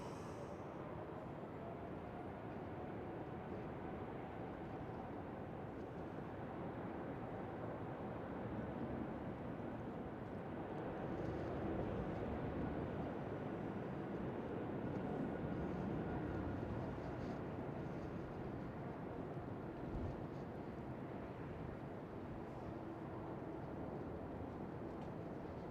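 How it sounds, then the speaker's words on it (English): An Emirates airliner takes off at Amsterdam Schiphol, a steady, distant jet roar that swells slightly toward the middle and holds for the whole stretch. "Emirates cleared for takeoff."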